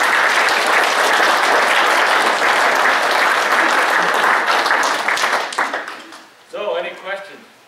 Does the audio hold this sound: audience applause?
yes